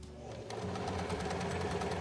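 A strong sewing machine stitching along the edge of a fold of apron fabric, starting after a brief pause and then running as a steady, close, fast mechanical whirr and rattle.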